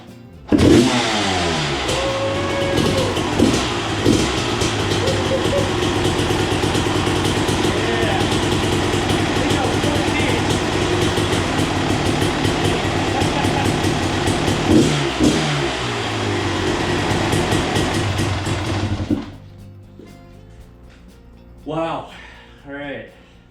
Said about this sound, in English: All right, so we have the bike running.